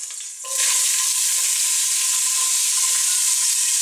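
Lardons dropped into a hot pan for coq au vin, a sudden loud hissing sizzle that bursts in after a brief quieter moment and holds steady and close to the end.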